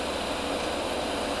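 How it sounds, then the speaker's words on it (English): An airbrush air compressor running in a workshop with a spray booth on, a steady, even broadband hiss and hum that continues unbroken, close and moderately loud. "I'm going to turn on my air compressor."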